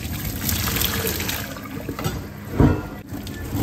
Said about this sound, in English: we'll drain the water out of it